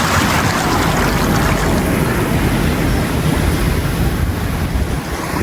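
Ocean surf rolls in steadily at El Volador Beach near Quimixto, a loud, unbroken wash of breaking waves mixed with wind buffeting the microphone, no voices.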